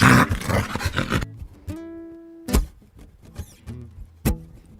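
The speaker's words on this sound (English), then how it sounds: "Look, there's even more dogs." Several dogs bark and growl in a burst of loud, harsh calls, then after a pause come sharper isolated barks and yelps, close and fairly loud with no talk over them.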